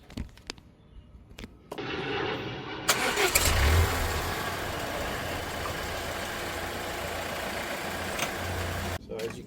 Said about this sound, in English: the car was adjusting itself because I did not deactivate the suspension